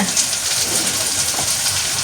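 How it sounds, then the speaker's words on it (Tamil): Potatoes frying in hot oil, a steady dense crackling sizzle held close and loud throughout, with no speech. "அடுத்தது உருளைக்கிழங்கும் பொரிக்கணும்"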